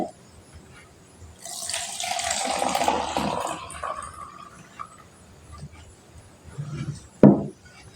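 Detergent solution is poured into a labeled container during a school science experiment on seed germination. A splashing pour lasts a few seconds and is followed by a short knock, with no speech.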